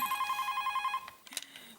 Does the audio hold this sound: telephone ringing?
yes